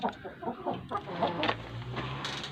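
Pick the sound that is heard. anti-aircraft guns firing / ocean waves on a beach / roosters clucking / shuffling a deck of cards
roosters clucking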